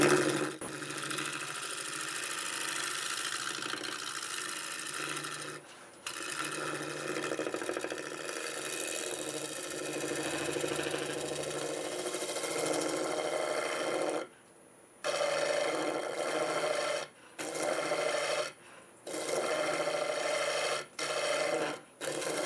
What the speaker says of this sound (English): I'm going to try my negative rake scraper and see if I can just kind of blend that in and get a little better finish.